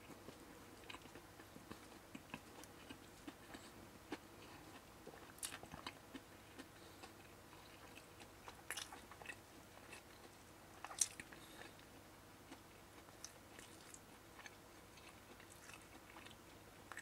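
Someone bites and chews a McDonald's chopped potato and beef creamy jalapeño burger, producing soft, scattered crunches and moist chewing sounds, faint and close, with no talking.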